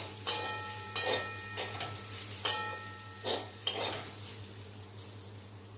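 Vegetable fried rice with soy sauce is tossed in a pan, spatula scrapes and clinks landing in a loose rhythm of about a dozen strokes over a faint low sizzle, fairly quiet and close.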